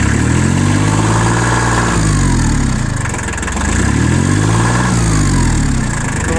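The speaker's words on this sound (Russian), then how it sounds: "двигатель очень легко и просто набирает обороты, беспроблемно работает" Shibaura P21F tractor engine revving up and down twice, a steady mechanical drone rising and falling in pitch, loud and close, with no talk over it.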